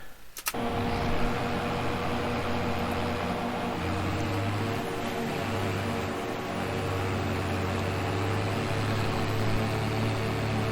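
A tractor mows a field in Farming Simulator 22, its engine holding a steady, continuous drone with an undulating low hum and a brief click at the start, no voices.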